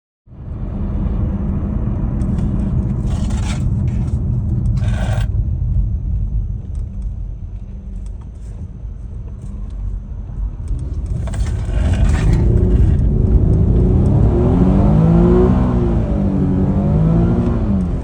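A Nissan VQ35HR V6 running after a full timing refresh and oil galley leak repair, heard close with a loud, steady idle rumble and a few blips of revving partway through, with no voices.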